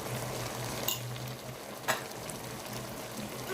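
Spices being mixed into a spinach and minced meat stew in a cooking pot, a soft sizzling fry with faint scraping of a spoon and occasional clinks, quiet and close with no talk.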